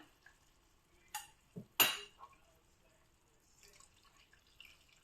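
Coconut milk thinned with hot water goes into a Kerala fish curry over a low flame, heard as a few sparse, close pouring splashes and a brief scraping stir against quiet background.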